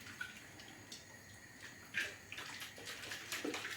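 Food being washed in a bowl of water with white vinegar, soft sloshing and splashing up close with a few small drips and swishes, fairly quiet, without talk.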